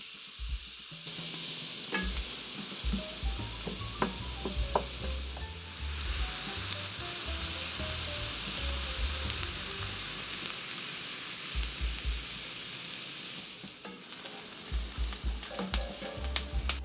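Celery, fennel and onion hit a hot pan with melted fat, starting as a scattered crackle with light stirring taps, then surging into a loud, steady hiss before settling back to crackling and scraping.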